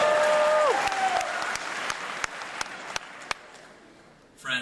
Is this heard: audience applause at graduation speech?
yes